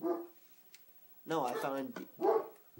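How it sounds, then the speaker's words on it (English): A dog in the Minecraft video game barks a few times in short bursts, mixed with a person talking nearby. "And that's my dog."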